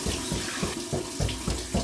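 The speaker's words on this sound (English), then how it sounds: "So here's my cold water rinse." Tap water runs into a sink for a cold rinse after a wet shave, a steady close splashing stream with slight rhythmic swells as hands move through it.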